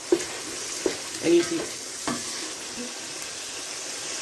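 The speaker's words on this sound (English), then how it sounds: "you can see my onions are cooking together with my beef" Onions fry with beef in a pot for Ghanaian oil rice, a steady close sizzle with intermittent stirring knocks and scrapes, and a brief voice at the start.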